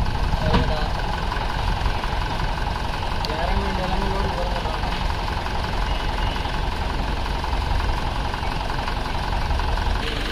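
A Mahindra tractor engine idles steadily at a weighbridge, a continuous low rumble throughout with someone talking over it.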